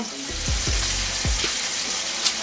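Meat sears in a Power Pressure Cooker XL with a steady, close hiss of sizzling fat, while a few low thuds and scrapes from handling the pieces break through near the start.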